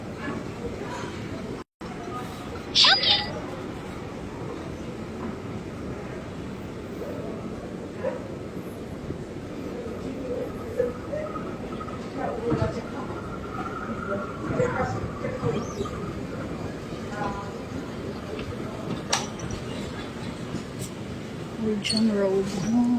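A Shanghai subway train heading toward Nanjing Road rumbles steadily, its low rolling noise continuous throughout with small clicks and bumps, while people talk over it.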